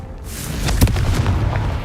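A Confringo fire spell detonates in Hogwarts Legacy, a sharp booming blast with a burst of crackling debris that decays over a second or so, loud and close.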